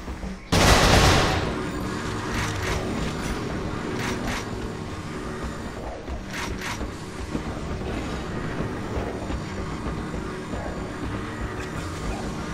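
Gunfire in the video game Resistance 3: a loud blast opens, followed by scattered sharp shots and bursts over a rumbling battle backdrop.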